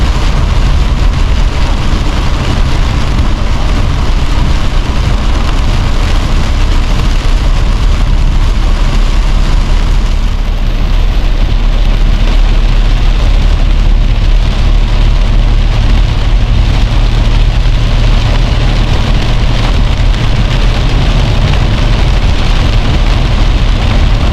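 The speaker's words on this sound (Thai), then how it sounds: "เนื่องจากว่าฝนตกนักนะครับ" Heavy rain pours steadily in Fang during a drive, a dense continuous roar with a low rumble underneath, loud and unbroken throughout with no voices.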